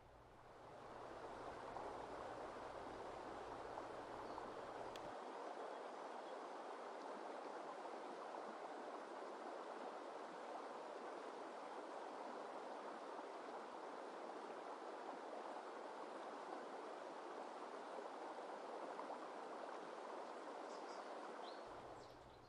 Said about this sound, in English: allowing it to be carried away by the flowing river.